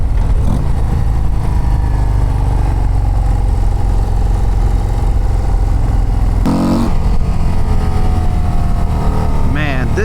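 A 2024 Harley-Davidson CVO ST engine pulling hard to high RPM, a loud, continuous rumbling roar that climbs in pitch, then breaks and revs again near the end.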